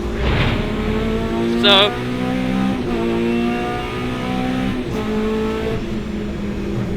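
A 750MC Hot Hatch race car on track at Brands Hatch, engine droning loud and steady throughout with a brief rising whine, heard from on board; a voice speaks a word near the start.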